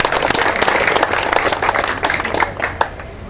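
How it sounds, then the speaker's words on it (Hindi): A village gathering in Badli applauds to welcome a visiting former MP during a goodwill march, a loud, dense wash of many hands clapping steadily, close and sustained, thinning slightly toward the end. "हम सब अपने क्षेत्र की तरफ से इनका दिल की गहराइयों से तालियां बजाकर स्वागत करते हैं।"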